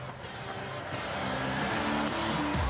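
Two supercharged vintage Mercedes race cars, a grey 710 SS and a white 720 SSK, drive on a race track, their engines a loud, dense roar that builds and rises in pitch as they accelerate.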